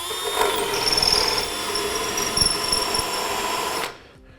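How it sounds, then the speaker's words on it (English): A power drill with a large 13/32 bit bores center holes while a base plate kit is set up for a 2015 GMC Terrain, giving a steady high whine with a squealing bite that stops abruptly near the end. "We'll use our large 13/32 drill bit"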